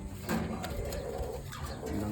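A pigeon coos softly and repeatedly, low murmuring calls close by against a quiet background.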